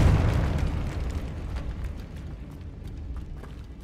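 A Confringo fire spell bursts in Hogwarts Legacy, a loud close explosion with a booming start that rumbles and crackles as it slowly dies away over several seconds.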